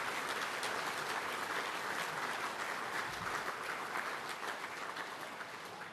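Sustained applause from an audience at a 2008 testimonial function, a dense even wash of clapping that holds steady throughout and eases slightly near the end.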